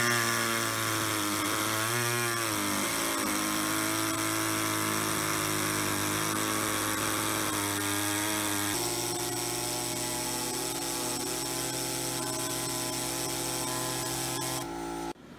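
An air-powered cutting tool, run from a small 2 horsepower, 4.5 CFM compressor, cuts plexiglass with a loud, high whining buzz whose pitch dips and rises under load, running continuously close up before cutting off at the end.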